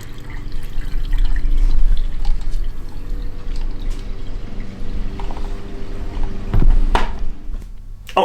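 Water running through a fill hose into the fresh tank of an Airstream Caravel travel trailer, a close, steady rushing flow with splashy gurgles and a couple of sharper knocks near the end.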